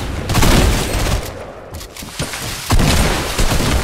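RPG rocket launcher shots and explosions in Fortnite, heavy booming blasts and rumbling detonations in quick succession, loud and close, with a sharp impact near the end.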